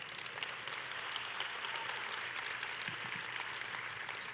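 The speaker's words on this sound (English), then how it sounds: "you can clap for that" The audience at a UNC Charlotte introductory press conference for coach Tomekia Reed claps in a continuous, fairly faint round of applause that stays even throughout, with a few brief murmurs underneath.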